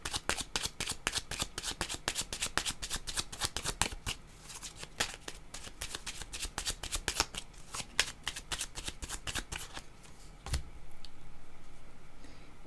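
A deck of Kepler oracle cards is shuffled by hand in a dense run of quick riffling clicks and flutters, steady and close, easing off near the end with a single sharp snap.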